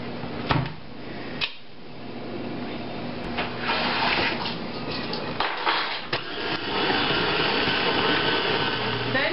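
Icebox cookie dough with vanilla being mixed, most likely with an electric mixer, giving a continuous whirring drone broken by a few sharp knocks and clatters against the bowl, close and loud with no voice.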